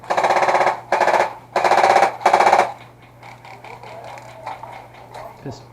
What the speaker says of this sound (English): That gun is loud.